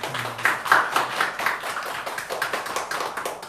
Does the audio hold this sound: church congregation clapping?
yes